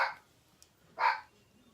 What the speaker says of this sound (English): Oh my gosh, she loves to bark.